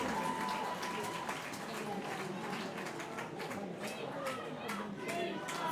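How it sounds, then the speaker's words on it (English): Crowd noise at a European Touch Cup touch rugby match between Italy and France, a steady wash of cheering, chatter and scattered clapping that carries on without a break. "The crowd has started to come alive as well."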